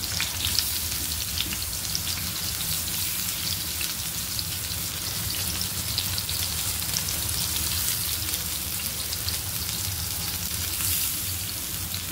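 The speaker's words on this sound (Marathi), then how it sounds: "हे तेल खालीच राहणार आहे आणि फक्त आपलं वांग भाजलं जाणार आहे" Brinjal (eggplant) frying in oil, a steady dense sizzle and crackle throughout, close and alone with no voices.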